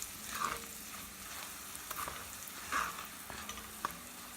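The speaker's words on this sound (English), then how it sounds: "I'm going to add the remaining spices that were on this plate. Stir it around." Spices fry in a pot for an Indian meat and potato curry, a faint steady sizzle broken by a few soft scraping stir strokes, with no talking.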